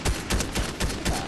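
Rapid bursts of video-game gunfire in a battle-royale match, several loud volleys in quick succession with short gaps between them, no voices over them.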